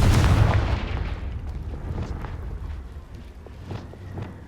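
A single loud blast opens the moment, the explosive fire of the Confringo curse in Hogwarts Legacy, then a long rumbling decay with a few faint pops and crackles trailing off.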